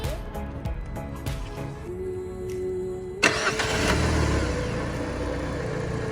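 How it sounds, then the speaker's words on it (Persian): A Peugeot 206 engine, an RC engine swap, cranks and catches with a sudden roar, then settles into a steady, loud idle close by. "بریم برای اولین استارت صبح استارت بزنیم."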